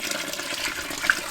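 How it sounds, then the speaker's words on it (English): Leftover wort pours steadily out after the sparge of an IPA home brew, a continuous liquid rush with a faint drip-like splash near the end. "this is the remaining wort coming out."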